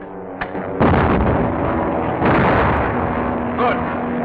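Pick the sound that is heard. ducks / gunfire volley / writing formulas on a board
gunfire volley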